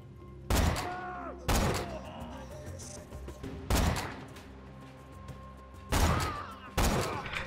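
Repeated gunfire from a Borderlands 2 shooter, several sharp loud bursts at irregular intervals with a lingering rumble between them, and no talking.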